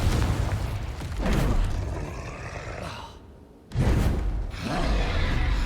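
Confringo blast spell exploding during a troll fight in Hogwarts Legacy, loud booming bursts in succession with a brief quieter gap, then another heavy blast and rumbling impacts.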